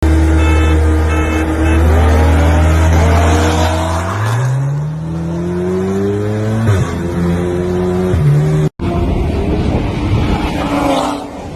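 An Audi RS3 and a Toyota Supra race past in a drag race, loud engines revving with rising pitch as gears climb, a brief tire squeal, then the roar fading away.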